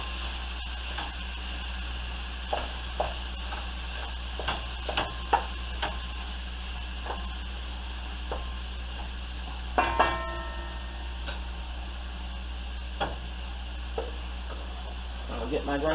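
A pound of ground beef sizzles steadily in a pan for a pot of chili, a continuous frying hiss broken by occasional scrapes and clinks of stirring, with no talking.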